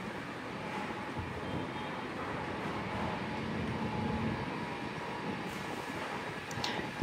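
An Ilyushin IL-76 jet taxis toward runway 25L at Tan Son Nhat airport, a continuous broadband engine rumble heard from a distance at moderate volume with a faint steady whine running underneath.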